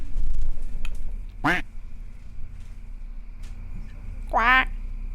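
A cartoonish duck in a video game quacks twice, a bright nasal call near the start and another toward the end, with background game sounds and a talking voice underneath.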